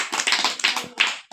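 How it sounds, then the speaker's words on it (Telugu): Children clap their hands at a Sunday school, a quick burst of dense, fairly close claps that runs unevenly for about a second before stopping. "వెరీ క్లాప్స్ కొట్టండి."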